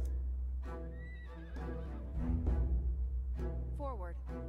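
Horses whinny and neigh in the strategy game Humankind, with rising and falling whinnies near the start and end, over a steady low battle rumble and game sounds.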